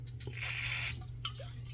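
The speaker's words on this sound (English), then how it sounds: "Let's try a little carbon choke cleaner." Short hissing bursts of carburetor choke cleaner spray on a Wheel Horse 211-5 garden tractor that has sat for years, with one longer spray and a brief second puff, close and fairly quiet, with no talk.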